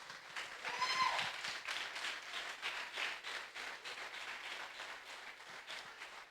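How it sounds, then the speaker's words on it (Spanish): Congregation applauding during a church sermon, a steady rush of many hands clapping that swells early and then holds at a moderate, roomy level without any voices over it. "si vas a aplaudir,"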